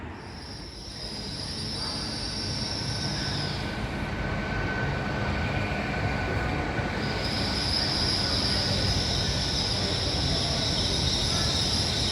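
A model train at a model railway show rolls past steadily with a continuous rumble, and metallic wheel squeal rises and fades over it. No one speaks.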